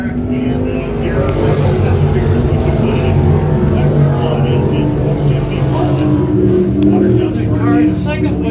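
Race cars roar around a speedway oval during heat races, a loud continuous engine drone that swells and shifts as the cars head into turns three and four, with a commentator talking over it.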